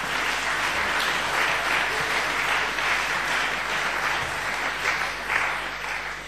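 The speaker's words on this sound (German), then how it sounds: "Applaus" Sustained audience applause fills a German university graduation ceremony hall, a steady dense wash of many hands clapping throughout with no voices breaking through.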